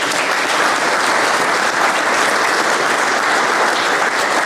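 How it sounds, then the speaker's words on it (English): Loud, sustained applause from a large audience at a public safety breakfast, honoring public safety workers, a dense even roar of clapping from start to finish. "Give them a round of applause."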